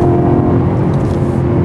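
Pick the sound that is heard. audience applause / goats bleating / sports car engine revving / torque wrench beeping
sports car engine revving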